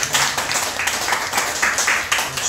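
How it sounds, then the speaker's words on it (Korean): Applause from a church congregation welcoming worshippers to a Sunday service, a steady patter of many hands clapping at moderate loudness with no voices over it. "우리 박수로 환영하겠습니다."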